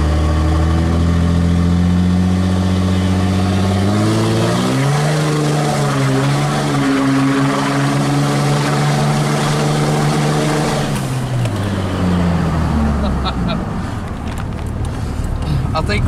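A Cummins diesel truck accelerates hard on a road, its loud engine drone climbing steadily in pitch over several seconds, then dropping off as the revs fall near the end, with rushing road and wind noise throughout.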